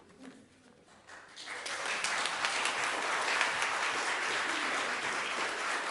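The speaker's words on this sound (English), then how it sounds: "You're applauding before I've done anything" A church congregation breaks into applause during a Sunday service, starting quietly and swelling within a couple of seconds into a full, steady clapping that holds at a moderate level.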